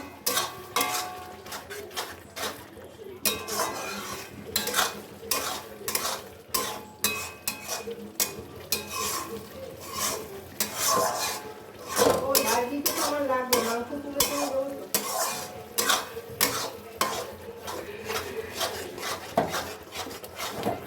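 Masala being stirred and fried down in a pan for a Christmas mutton curry, with a steady run of scraping, clinking spatula-on-metal strokes and soft rubbing, close and continuous with no talk.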